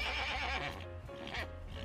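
A person imitates a horse's neigh with a short, wavering whinny, close and fairly loud, heard alone without other talk.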